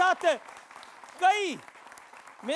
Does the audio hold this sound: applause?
yes